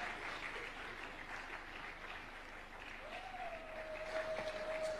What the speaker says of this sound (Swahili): makofi mengi mengi mengi mengi mengi mengi sana